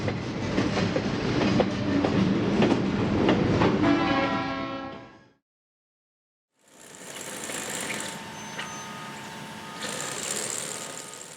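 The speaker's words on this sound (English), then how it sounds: "one can now see a nearly empty train, giving an indication as to how much steel a railroad requires." A nearly empty work train carrying welded rail rolls past on the tracks in Indiana, a loud close rumble with clicking wheels that cuts out suddenly and then resumes as a softer, steady roll.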